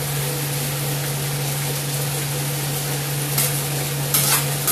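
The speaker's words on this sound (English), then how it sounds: "Now we're getting that sizzle that fajitas are just known for." Fajitas with onion sizzle steadily in a hot pan. A loud continuous hiss carries a low hum beneath it, with brief bursts of stirring near the end.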